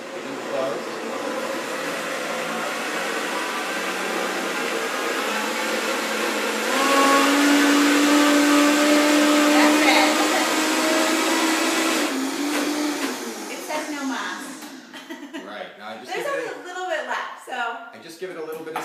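An electric blender whirs steadily, mixing oil and egg into homemade mayonnaise, its motor tone shifting as the mixture thickens. The whir cuts off near the end and a voice talks.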